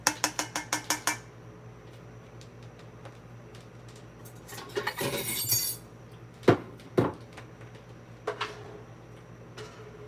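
Glass and cutlery clink in a quick burst of bright taps, followed by softer scraping and a few clinks as Buldak Quattro Cheese and Jjajang ramen is moved into a bowl.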